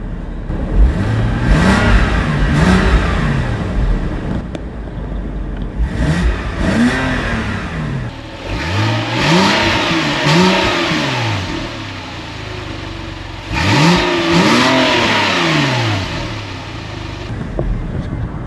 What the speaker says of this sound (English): So I'm going to give it some revs without the exhaust on.